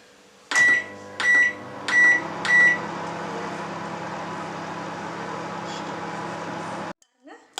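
A microwave oven cooking fish curry gives four short beeps, then runs with a steady low hum and whir for several seconds before stopping, followed by faint clicks.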